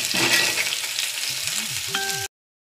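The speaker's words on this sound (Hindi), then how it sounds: "अब हमारे पास जो बारीक कटी हुई प्याज है उसे इसमें हम डाल देंगे।" Loud hissing sizzle as finely chopped onions hit hot oil while cooking bhindi do pyaza, with a brief stirring clatter and a faint metallic ding before it cuts off.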